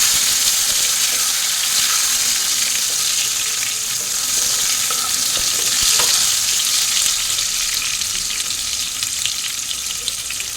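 Tomato drops into hot oil already spiced with bay leaf, dried chilli and cumin, giving a loud, dense, continuous frying hiss close by that runs unbroken throughout, with no talking.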